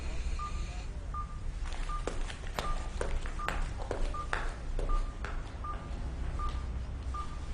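A telephone number being dialed, with a steady run of short keypad tones and clicks at an irregular rhythm over a low background hum, close and alone without speech.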